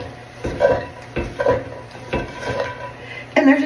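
Frozen mixed vegetables are stirred into a ground beef mixture in a pot, with close, repeated scraping and clunking strokes of a spoon against the pot at an uneven rhythm.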